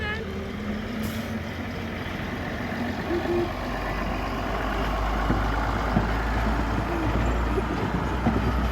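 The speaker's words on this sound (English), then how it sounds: "at 5 to 11 the DMU finally set off southwards towards Highley" A diesel multiple unit train on a heritage railway pulls away, its engine rumble building into a deep, growing drone with hissing and clanks, close by and rising in loudness over the final seconds.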